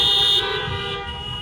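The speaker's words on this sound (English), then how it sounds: "I want you to honk your horn if you have car insurance" Car horns blare together at an outdoor Trump 2020 rally in Helena, Montana, a loud sustained honking that thins after the first moment into a softer lingering tone.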